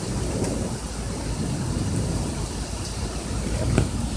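Rain falls hard outside a bedroom window during a thunderstorm, a dense continuous wash of noise with low thunder rumbling underneath and a few sharp crackles near the end.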